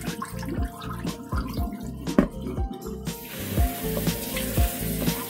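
Water draining and splashing out of a bowl of washed strawberries in a kitchen, with irregular close drips and pouring spatters, steady and moderately loud throughout.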